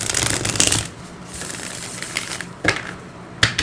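Tarot cards are shuffled in short, crisp riffling bursts, a few quick rounds separated by brief pauses, heard close and alone.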